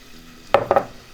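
Heavy cream being stirred into garlic browning in a hot pan, a couple of short scraping and clinking strokes of the spoon over a low background sizzle.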